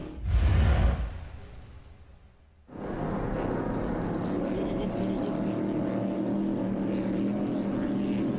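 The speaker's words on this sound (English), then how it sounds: "on board you can hear them thumping over the waves there, Shelley doing the steering" Racing powerboats at a Malta Grand Prix event, heard onboard: a loud burst of wind and water gives way to a steady, heavy engine drone with hull thumping over waves, continuous and close.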